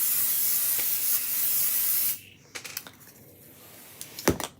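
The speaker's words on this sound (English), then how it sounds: "I'm going to grab this board and we're going to spray it." A can of adhesive spray hisses steadily onto a board for about two seconds, followed by quiet clicks and taps of handling.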